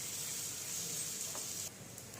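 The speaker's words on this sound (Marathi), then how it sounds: "आता आपण ती चपाती जी बनवली आहे तर ती चपाती तव्यावरती टाकून घेऊया" A chapati sizzles softly on a hot oiled griddle, a faint, steady hiss that drops slightly near the end, with no talking.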